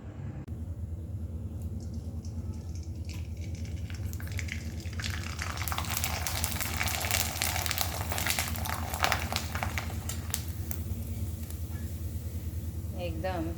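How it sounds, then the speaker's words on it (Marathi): Sun-dried sago papads, a fasting-day snack, sizzle and crackle as they fry in hot oil on a gas stove, a steady bubbling hiss that grows busier midway, with a low background rumble and no talk over it. "त्या या आता तळून पण दाखवणार आहे"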